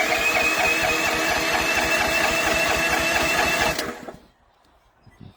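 A small engine on an AGT H12R mini excavator fires up on choke and runs with a rapid, steady chugging, then stumbles and dies away, leaving near silence.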